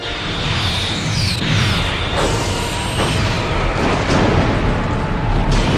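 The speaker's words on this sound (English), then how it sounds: "Target that explosion and fire." Loud, continuous roaring rumble with booming blasts and whooshing sweeps from a Star Trek film explosion sequence, dense and unbroken throughout.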